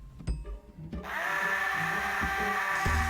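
A dentist drill in the video game Deponia, a few knocks followed by a sustained whining buzz that starts abruptly and holds steady at moderate loudness.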